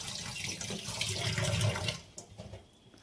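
Water runs from a tap to soak and wash dried fish, a steady close splashing stream that fills the first two seconds, then cuts off leaving faint drips and quiet; no one speaks.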